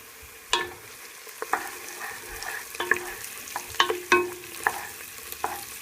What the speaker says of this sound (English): add in the peppers and the mushrooms. I'm going to give that a good stir